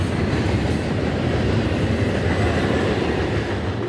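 A train rolls past on railroad tracks beside a small park in an industrial area, a steady loud rumble with rail clatter that holds at constant strength for the whole stretch, with no talking.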